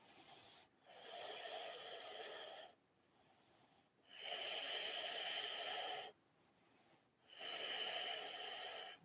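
Three long, steady breaths drawn in and out during an evening yoga session, each one a broad airy rush lasting about two seconds with short quiet gaps between, close and fairly soft, with no talking.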